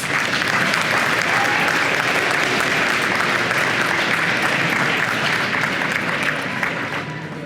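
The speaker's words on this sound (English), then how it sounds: "Students, give your parents a round of applause." Seniors and guests at a high school academic awards banquet applaud their standing parents and guardians with a thick, steady wall of clapping that fills the room throughout and eases off only slightly at the end.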